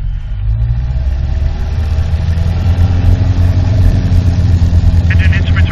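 A small training airplane's piston engine roars loud and steady at full throttle during a takeoff run on a runway, a dense constant drone close to the cockpit with slight rising pitch, and an instructor's voice talking over it.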